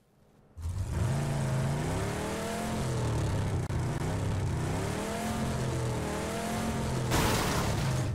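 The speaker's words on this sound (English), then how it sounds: "I don't know how far this car can go" Car driving in PUBG on Xbox One, a steady loud engine drone that revs up and down in waves after a sudden start, with no talk.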